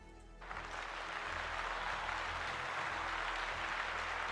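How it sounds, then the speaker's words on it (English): A live group at a tabletop role-playing session breaks into a round of applause, a soft, dense clapping that swells in after a quiet start and holds steady, heard from a distance. "Let's give Ginger a big old round of applause."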